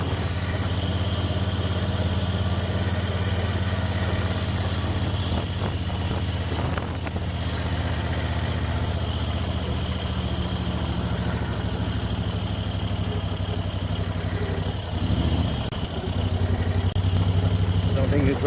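A car engine hums steadily while the car drives across a dam in California, a constant mid-low drone with faint shifts and a short rough patch near the end.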